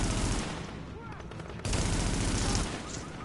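Sustained rapid gunfire from a weapon in the video game The Division, a dense continuous burst of loud shots for the whole stretch with no pauses.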